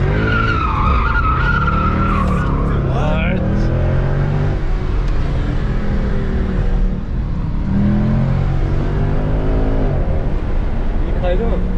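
A Mercedes C63 AMG drifts in Turkey, tires skidding and squealing in long wavering screeches over a loud revving engine, close and continuous, with people talking and shouting throughout.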